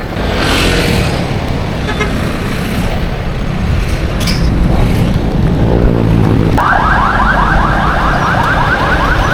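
Busy street traffic in a Philippine town, with a steady roar of passing vehicles and engines, then a loud, wavering alarm-like horn or siren that cuts in and keeps sounding until the end, with no voices heard.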